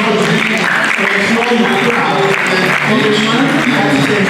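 An audience at a college of education induction claps steadily, a thick, continuous patter of many hands with crowd murmur beneath, loud and unbroken.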